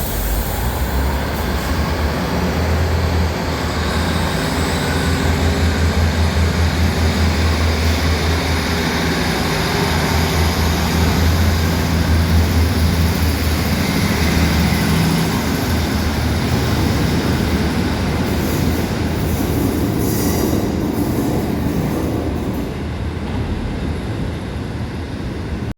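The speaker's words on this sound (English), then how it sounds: "let's take a look at the same Class 156 departing Sunderland Station, heading west to Hexham." A Class 156 diesel multiple unit pulls away from Sunderland Station heading west, its engine a steady, loud, close rumble with low throbbing throughout and no talk.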